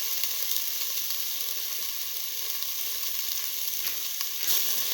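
Ginger frying in a hot pan gives a steady, bright sizzle that runs without pause, close and fairly loud, with a slight surge near the end.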